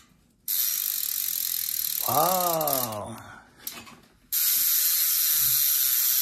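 A Race Face Arc30 rear wheel's freewheel hub ratchet buzzes in a fast, steady clicking whir, pauses as someone briefly exclaims, then resumes loud and close.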